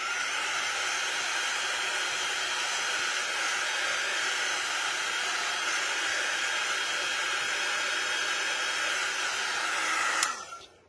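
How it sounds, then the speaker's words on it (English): A quick-dry heat tool blows steadily while drying a chalk craft project, a loud, even airy whoosh held for about ten seconds before it switches off abruptly. "So you're going to dry that with the quick dry tool."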